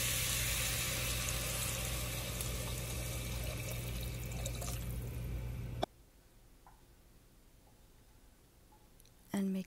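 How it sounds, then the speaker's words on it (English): About two cups of water pour steadily into a pot of rajma kidney bean curry with soaked beans and masala paste, a close, continuous rushing splash that stops abruptly partway through, leaving quiet. "Now add around 2 cups of water."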